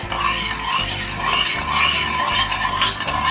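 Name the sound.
stirring corn rava kesari mixture in a pan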